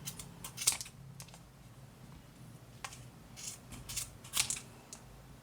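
Scissors snip around a child's crocheted llama bag, giving sharp, close, crisp cuts in an irregular series of separate snips over quiet room tone.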